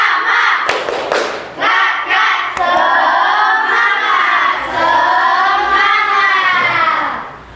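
A class of children claps the rhythmic 'tepuk semangat' ice-breaker twice, a few sharp claps leading into loud group chanting and shouting that fills the room.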